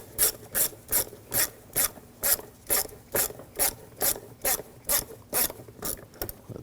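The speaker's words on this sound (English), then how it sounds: "I'm going to loosen up this clamp." Rhythmic ratchet clicks from a 6mm socket wrench loosening a hose clamp on the air filter box of a 2007-2013 BMW 328i 3.0L L6, about a dozen evenly spaced rasping strokes, close and alone.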